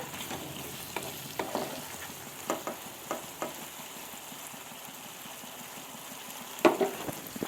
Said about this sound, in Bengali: ঢেকে ঢেকে কষাবো মাংসটা আমি, তাহলে তাড়াতাড়ি সিদ্ধ হয়ে যাবে মাংসটা।